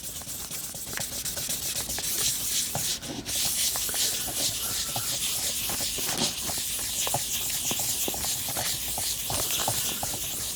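Continuous rubbing sand-and-buff strokes on the casing of a vintage Telstar phone, close and steady with a hissy, scratchy texture throughout and no talking.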